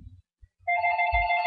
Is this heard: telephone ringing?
yes